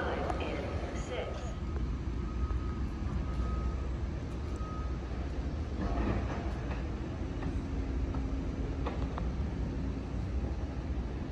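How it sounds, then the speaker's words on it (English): A Long Island Rail Road Main Line train rumbles through Mineola station in a steady, loud, continuous roar with faint squeals and clanks, heard from the platform. "train to Penn Station, will arrive in 6"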